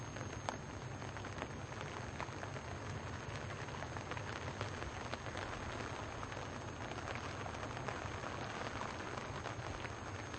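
Steady rain falls on bivvies beside a carp fishing lake, a dense even patter of drops on fabric that continues unbroken and fairly faint, with no voices.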